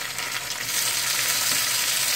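Tomato added to capsicum, onion, ginger and garlic frying in a pan for chowmein, a dense continuous hiss of sizzling oil, close and even throughout, with no voices.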